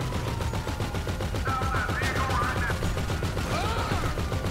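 Rapid gunfire bursts from a Grand Theft Auto 5 game session, a steady stuttering crackle of shots with brief whistling and ringing effects layered over it, loud and continuous throughout.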